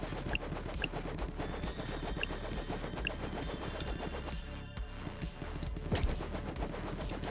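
Rapid, continuous gunfire in a video game, a dense, unbroken stream of shots at a fairly low level, without voices.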